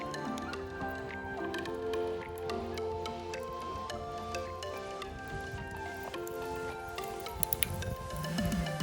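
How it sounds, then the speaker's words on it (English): Water in a pan outdoors just starts to boil, with a soft, irregular crackle of small bubbles and drips, close and quiet over faint background noise. "We're getting the first bit of boiling on this water"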